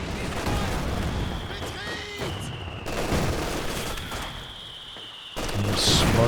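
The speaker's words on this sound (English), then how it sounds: "Double mortar's getting to work in the middle though." Mortar fire in the real-time strategy game Company of Heroes 2, rumbling booms and crackling impacts layered over continuous battlefield noise, with a louder burst near the end and a voice talking over it.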